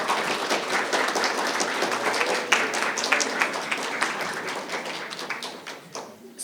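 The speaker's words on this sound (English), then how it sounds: "give everybody a round of applause" Sustained audience applause at a senior pride awards ceremony, dense clapping from a room full of people that holds steady for several seconds, then thins out near the end.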